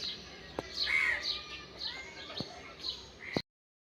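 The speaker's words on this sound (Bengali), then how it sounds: "পাখির ডাকগুলো খুবই ভালো লাগে" Birds call in the open, giving faint, scattered chirps and short whistled notes for a few seconds. There are occasional sharp knocks and a soft rustling background.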